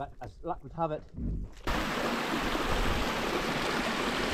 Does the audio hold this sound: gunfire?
no